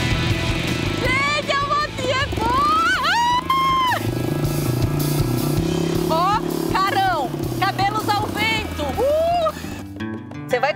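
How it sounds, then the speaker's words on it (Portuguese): A small homemade motorbike built by a creative mechanic putters along with a low, steady engine drone underneath, while people talk and laugh loudly over it for most of the ride. "Gente, a motinha é boa!"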